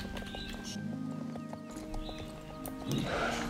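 A horse in the video game Star Stable Online trots with steady clip-clop hoofbeats, then lets out a loud whinny over a constant game music bed.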